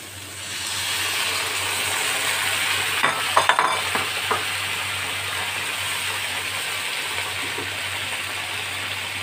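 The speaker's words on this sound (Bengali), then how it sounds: "এতে দেবো আমি সামান্য পরিমাণ 1/2 কাপ মতন জল" Mushrooms frying in a pan for a chili mushroom dish, with half a cup of water just added, give a steady close sizzle and hiss, broken briefly by a few clinks of stirring.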